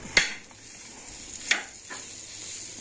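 Butter sizzles softly on a hot griddle while cut pav are toasted. A low, continuous fry hiss is broken by two or three sharp metallic taps of a spoon or spatula against the pan.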